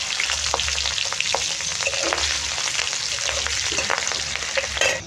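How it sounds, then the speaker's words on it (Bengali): Nigella seeds and green chillies hit hot oil in a pan for Bengali begun posto, producing a steady, loud, crackling sizzle with occasional stirring scrapes throughout. "কালো জিরে ফোড়ন দিয়ে দিচ্ছি"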